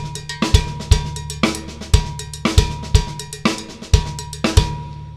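Drum kit playing an inverted paradiddle funk beat with accents on the fourth sixteenth of each beat and no backbeat: steady low kick thumps under bright, rapid metallic hi-hat strokes, loud and alone.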